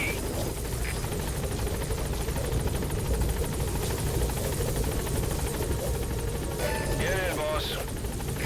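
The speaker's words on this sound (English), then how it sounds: "Support helicopter has arrived." A support helicopter's rotor drones loudly and continuously, close by, arriving at a landing zone in the video game Metal Gear Solid V: The Phantom Pain, while a voice briefly speaks over it near the end.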